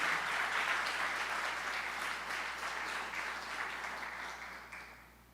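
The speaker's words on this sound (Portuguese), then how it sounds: "Você é capaz de dar uma linda salva de palmas a Deus por isso?" Church congregation clapping in praise to God, a dense, steady wash of applause that slowly fades out toward the end.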